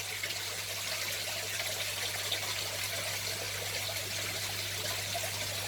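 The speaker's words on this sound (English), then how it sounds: "Hold that up nice and high, let that water drain back down, empty the pipe out." Water trickles and drains from a raised aquarium siphon pipe in a small shrimp tank, a steady, soft, close stream running continuously over a low background hum.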